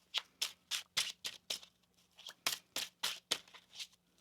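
Tarot cards being shuffled by hand during a reading, a series of quick crisp riffling bursts in an uneven rhythm, close and quiet with short gaps between each pass.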